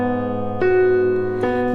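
Piano playing the chords of a song with both hands, with sustained tones and two fresh chord attacks ringing out over a held bass note during a short passage, with no talking.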